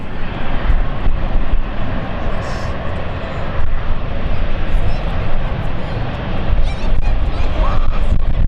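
A passenger airplane takes off at London City Airport, its engines producing a loud, sustained roar that stays steady throughout.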